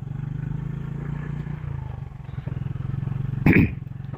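A Yamaha motorcycle engine idles nearby with a steady, low throb, then briefly rises into a sharp, loud burst near the end.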